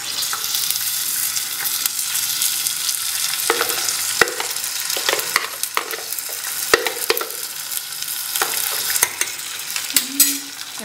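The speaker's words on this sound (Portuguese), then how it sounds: "Carne moída aqui, fritando aqui, olha." Ground beef frying in a pan, a steady close sizzle broken by repeated scraping stirs and clanks of a utensil, no talking.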